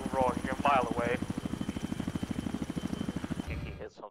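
A military helicopter in a squad-based war game thumps with fast, steady rotor beats that run loud and near throughout, while people talk over the first second before the rotor noise cuts off abruptly near the end.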